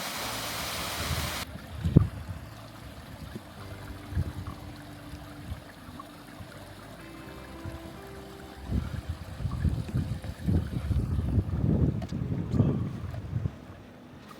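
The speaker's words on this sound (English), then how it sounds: "It's a bit windy, if you can tell" Gusty wind buffets the microphone in uneven bursts on open upland near Llyn y Fan Fawr in the Brecon Beacons, rising and falling, with a stronger rumbling stretch toward the end.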